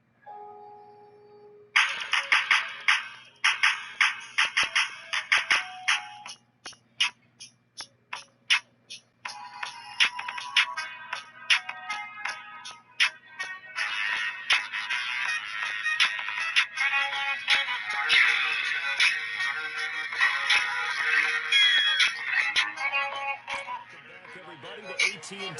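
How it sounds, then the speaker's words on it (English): A self-made music beat plays through a phone speaker, starting with a few soft tones, then sharp repeated percussive hits building into a dense, continuous tinny loop that carries on loudly to the end. "I'm gonna also be playing a beat that I made"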